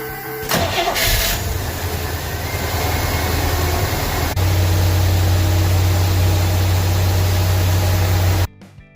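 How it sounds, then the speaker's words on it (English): A Chevy 350 engine cranks and catches after a valve tick repair, then idles steadily and loudly up close, the hum deepening partway through before cutting off abruptly. "so I can fire up the engine and test the repair"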